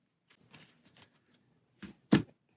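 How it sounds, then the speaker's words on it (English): Cards for the Set a Watch board game being shuffled: soft scattered riffles and flicks, then two sharper, louder snaps of the deck near the end, close up with no talk. "So we'll shuffle those and separate them into 2 equal stacks."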